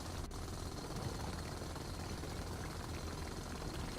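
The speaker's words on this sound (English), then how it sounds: "Watching me just drill through" In Space Engineers, a loud, steady mechanical drone and grinding rumble fills the whole stretch without pause, like heavy drilling machinery boring continuously through meters of earth.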